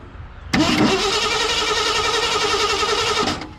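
1968 Ford F100 engine being cranked over by the starter, a loud steady whirring grind lasting about three seconds and then cutting off abruptly, without the engine firing.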